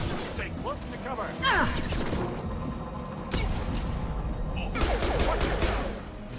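Rapid gunfire in Mass Effect 2 during a combat firefight, a dense continuous clatter of shots and mechanical weapon noise with several louder bursts, while voices talk faintly underneath.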